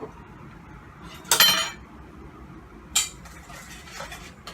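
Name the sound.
whisking butter with two sugars in a bowl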